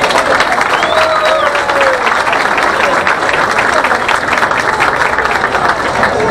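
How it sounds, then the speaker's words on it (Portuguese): A ceremony audience applauds at the signing of a service order for works on 14 de Julho street, steady dense clapping from a crowd that holds at an even level throughout. "Quero, com muito carinho e com aplauso, cumprimentar o nosso querido senador Pedro Chaves."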